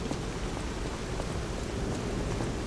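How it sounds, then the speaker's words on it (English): Steady rain falls throughout a rainy circus area in the game Lies of P, a constant broadband hiss of downpour with faint scattered drops and no talk over it. "I do love how it looks like it's getting washed away, which makes sense because, well, it is rainy."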